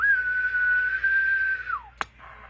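A steady whistled tone held for nearly two seconds and then sliding down is sent through a Cobra 21 CB radio to check modulation, clear and close, followed by a short click and a faint hum.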